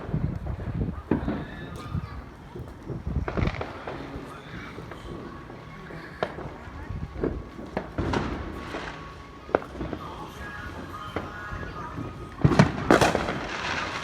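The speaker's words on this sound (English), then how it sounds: "How many more fireworks do we have?" Fourth of July fireworks exploding nearby, a long irregular series of sharp cracks, pops and booms, some loud and close, with crackling between blasts.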